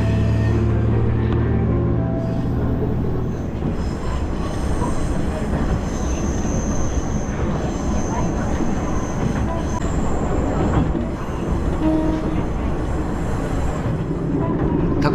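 A Minamiaso Railway train runs between stations on the day full service resumed, heard from on board as a continuous rumble of wheels on rail with faint squeals, while a voice talks over it.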